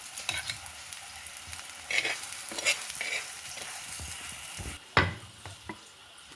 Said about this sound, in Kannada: ಈಗ ಎರಡು ಬದಿ ಸರಿ ರೋಸ್ಟ್ ಮಾಡ್ಕೊಂಡ್ರೆ ಸರಿ.